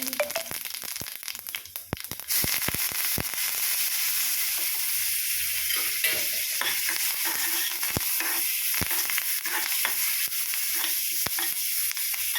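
Mustard seeds, two dried red chillies and curry leaves crackle and sizzle in hot oil for a tempering for beetroot pachadi, a loud steady hiss with sharp popping seed crackles scattered throughout and no voices.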